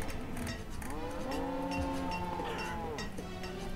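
Cattle mooing in the village-building game Banished, several drawn-out low calls overlapping one another over steady wind and ambient farm noise, with no talking.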